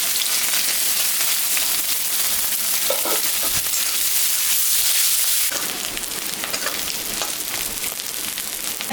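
Sliced onion and green chillies fry in hot oil with a loud, steady, broadband sizzle and occasional stirring clinks.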